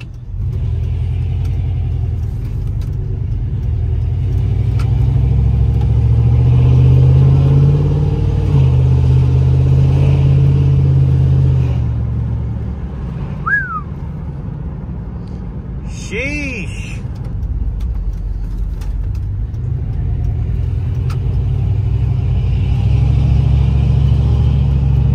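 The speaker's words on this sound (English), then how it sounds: "I think this is my first video of actually doing a drive around in this truck." A pickup truck engine rumbles steadily while driving, with low road noise throughout and a couple of brief squeaks partway through.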